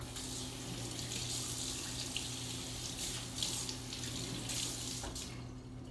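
A large kitchen knife rinsed under a running kitchen tap, with a steady close stream of water splashing in the sink and faint shifting as the blade moves through it, no talking.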